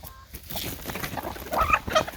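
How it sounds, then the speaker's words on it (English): Chickens cluck and chatter nearby, with several short overlapping clucks growing busier toward the end. "I'll give our lovely chickens here a little snack"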